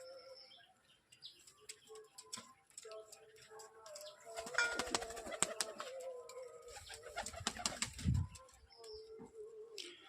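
Soft pigeon coos and chirps mingle with a burst of wing flapping and shuffling midway, fairly quiet and close, with faint background noise.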